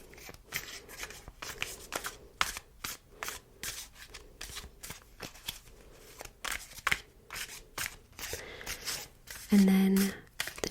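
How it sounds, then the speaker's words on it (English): Doomlings trait cards are shuffled up close in a soft, quiet setting, with repeated riffling bursts and rustles and a brief low thump near the end. "Of course, you want to give these a good shuffle."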